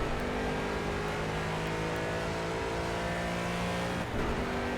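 An Aston Martin race car in Project CARS at the Zolder circuit, Belgium, drones loud and steady at high revs, holding a constant engine note with a brief dip near the end, with no talk over it.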